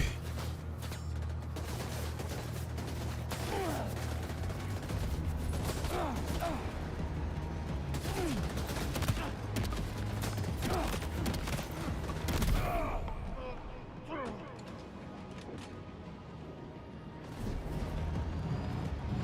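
Shotgun blasts and combat noise fill a Death Stranding 2 firefight, with repeated booms and mechanical clatter over a continuous dense background for most of the stretch, and a voice talks over it.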